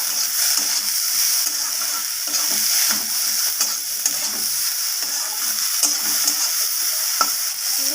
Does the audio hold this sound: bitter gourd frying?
yes